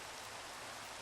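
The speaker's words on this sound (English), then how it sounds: "And it's also raining." Rain in the Minecraft Sky Factory 3 modpack, a faint, even hiss of falling water with no distinct drops or other sounds.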